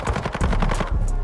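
Rapid bursts of automatic machine gun fire in Call of Duty Warzone 2.0, loud and close, firing in quick stuttering volleys with a brief pause before a final burst.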